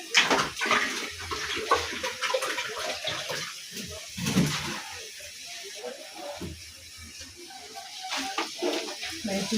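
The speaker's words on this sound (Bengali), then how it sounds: "একটু জল দিয়ে দিলাম।" Water poured into a cooking pot of bottle gourd curry, a splashing, hissing pour that comes in bursts near the microphone, with faint voices in the background.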